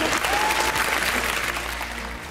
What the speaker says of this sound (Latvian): Aplausi Kūkai un aplausi arī skolotājai